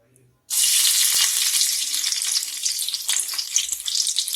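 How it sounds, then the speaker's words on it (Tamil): Garlic sizzles loudly in hot oil in a pan, a dense steady frying hiss that starts abruptly and continues with faint crackles, close and alone. "பூண்டு போட்டு நல்லா வறுத்து எடுத்துடலாம்."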